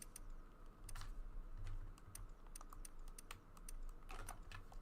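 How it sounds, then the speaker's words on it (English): A cat walks across a computer keyboard, and its paws press the keys in irregular clicks and clusters, heard close up over a low steady room hum. "my cat is just standing all over my keyboard"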